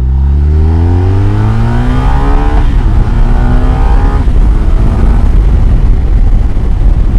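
2023 BMW R 1250 RS sport tourer motorcycle, 136 horsepower, accelerating hard with rising engine pitch through a gear change, loud and close, followed by a sustained rushing roar of wind and engine.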